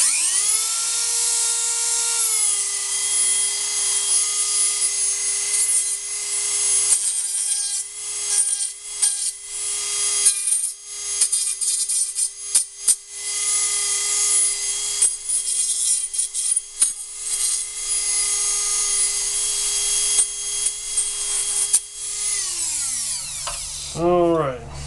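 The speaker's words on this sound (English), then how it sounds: "if you're looking for speed, Dremel's the way to go" A Dremel rotary tool cutting metal for a homemade alcohol stove whines at a steady high pitch through most of the stretch, sometimes catching and stuttering as it bites. It spins down at the end, and a voice speaks briefly as the tool stops.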